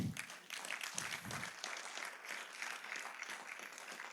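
Audience at an election security management symposium and book launch claps after a presentation, with loud, dense applause at first that settles into a steadier, lighter patter of hands, and no talk over it.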